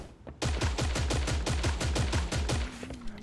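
Rapid automatic gunfire from Creative Destruction, a video game, rattles in an even, fast burst of about a dozen loud, close shots, ending with a faint tone.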